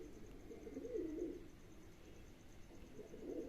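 Pigeons cooing in a loft, two soft, low bursts of throaty coos about two seconds apart over quiet background hum.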